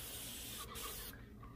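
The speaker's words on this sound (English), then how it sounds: "So I'm going through and doing all the spraying, I'm doing all the edges and stuff" A steady, loud hiss of an airless paint sprayer with a small 315 tip running continuously on a house exterior, with a brief drop in the high hiss near the end, no voices.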